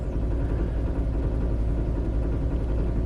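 A car engine runs rough after a bad start with the check engine light on, giving a steady, loud, close rumble that drones on without a break.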